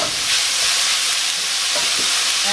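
Ground turkey fries in a hot pan with a loud, steady, close sizzle, and scraping as the meat is broken up, with no talking.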